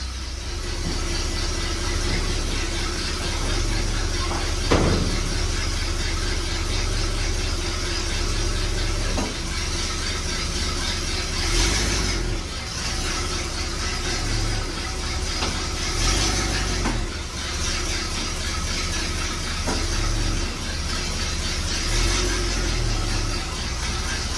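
A project car with no seats and wonky control arms runs its engine in a steady low drone as it backs out, with occasional knocks and clunks over the constant rumble.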